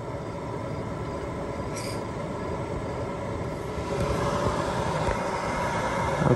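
Webasto Airtop 2000 STC diesel heater starting combustion, a steady broadband whooshing roar like a small jet that swells louder partway through and keeps building, heard up close with no talking.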